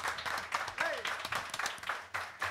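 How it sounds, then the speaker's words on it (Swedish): A small burst of hand clapping from a guest starting the applause himself at a livestreamed talk show, quick uneven claps sounding under ongoing conversation. "Ja, han drar igång applåden själv."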